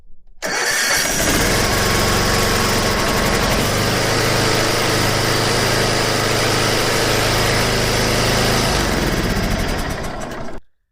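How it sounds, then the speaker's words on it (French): A small engine, just after a valve adjustment, cranks and catches at once, then runs loud and steady at close range for about ten seconds before cutting off abruptly. "Maintenant, je fais un dernier essai et normalement, ça doit tourner et peut-être démarrer"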